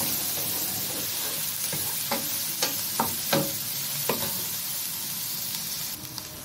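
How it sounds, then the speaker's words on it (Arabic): Garlic sizzles and fries steadily in a pan, a constant close hiss broken by several sharp stirring clicks and scrapes, with no voices. "بصوا حته تومه شايفين، ما بخليهاش يا جماعه تحمر قوي"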